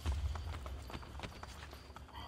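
Hooves clip-clop in a steady running rhythm as a horse moves through Assassin's Creed Brotherhood, fairly close and alone, with faint game ambience beneath.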